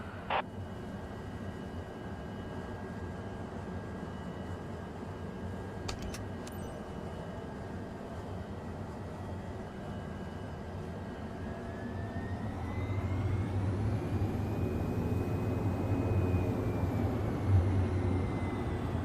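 Light aircraft taking off from runway 25 in Microsoft Flight Simulator 2024, on an agricultural spray job: a steady engine drone that swells louder and rises in pitch partway through as the plane accelerates, with no talk.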